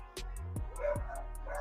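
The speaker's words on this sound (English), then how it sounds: "my dog's barking like that" A dog barks in a few sharp, close bursts over a steady low indoor hum, with no talking.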